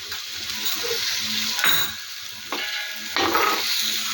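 Salted onions sauté in a pan for a Kerala-style eggplant masala, a continuous close sizzle broken by a few sharp spatula scrapes against the pan.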